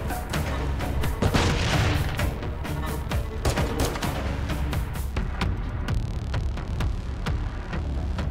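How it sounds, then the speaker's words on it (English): A flashbang grenade thrown during combat in Call of Duty Modern Warfare 3 on a frozen mission, with dense booming blasts, rapid gunfire and shuffling movement filling the mix at steady loud level. "Throwing flashbang!"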